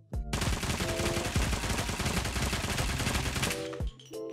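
A continuous burst of fast automatic gunfire in Call of Duty Mobile, from a weapon with a fire-density modification, loud and close, cutting off sharply into a couple of brief clanks afterward.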